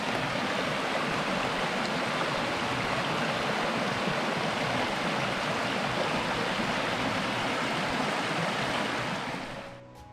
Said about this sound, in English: cross over this stream here, quite fast flowing